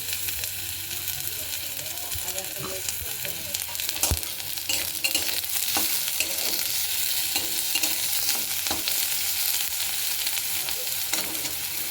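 Cut eggplant fries in a pan with a steady, close sizzle and occasional stirring clinks, continuous throughout with no talk.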